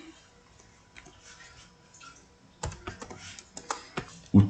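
Someone types on a computer keyboard while filling in task fields in project-planning software. A faint hum comes first, then a quick run of sharp, close key clicks with one louder tap at the end, and no talking.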